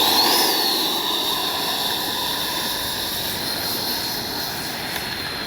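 An Arrows 64mm MiG-29 RC jet roars past on a speed trial, a loud continuous turbine whine that is strongest at the start and slowly fades as it moves away.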